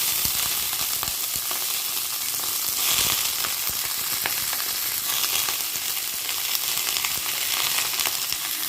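Cabbage with green chilli, dried chilli and garlic frying in a pan for a cabbage bharta, giving a steady, loud, close sizzle with occasional stirring clatter throughout.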